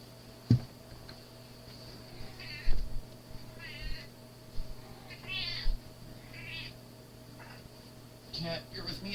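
An indoor cat meows repeatedly at night, several close, wavering cries spread out over time, with a person talking between and over them and a faint steady ticking hum underneath.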